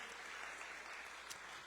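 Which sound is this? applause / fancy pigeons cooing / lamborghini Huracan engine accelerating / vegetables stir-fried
applause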